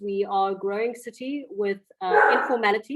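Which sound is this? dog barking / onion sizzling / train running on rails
dog barking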